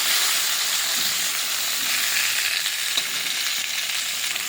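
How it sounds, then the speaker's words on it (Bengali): Fish head frying in hot oil, a dense continuous loud sizzle and hiss close up, steady for several seconds with no voices. "মাছের মাথাটাকে ভালো করে ভেজে নেব।"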